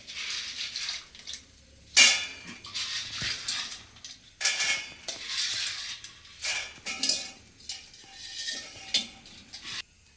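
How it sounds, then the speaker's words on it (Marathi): Soaked chickpeas are tipped and scraped into a metal pot, giving a run of rattling, clattering bursts and utensil scrapes with brief pauses between them, close and fairly quiet. "आता आपण हे हरभरे एका पातेल्यात काढून घेऊ."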